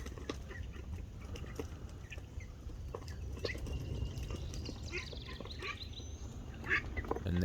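Ducks quack in scattered bursts amid a busy, noisy farmyard, with rustling and other animal sounds around them.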